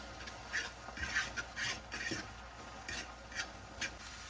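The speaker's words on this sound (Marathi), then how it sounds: "एक 2-3 मिनिट मी चांगलं हलवून घेतले याला" Japanese instant noodles are stirred in a pan as they cook, with soft, rhythmic scraping strokes over a quiet sizzle, close by and fairly faint, and nobody talking.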